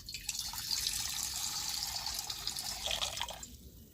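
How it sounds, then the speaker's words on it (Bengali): Water pours into a kadai pan in a home kitchen for boiling banana flower, a steady splashing trickle lasting a few seconds at moderate volume, heard close up with no talk. "এখন কড়াতে জল দিয়ে দিচ্ছি।"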